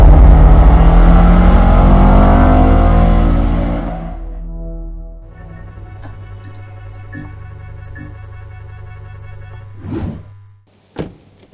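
A Toyota GR86 2023 sports car's engine revs loudly and builds for about four seconds, then cuts to a low idle hum with faint clicks, ending in a couple of short mechanical thunks.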